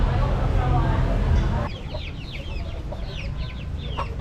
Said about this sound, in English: More young chickens and roosters being prepared for a life of violence.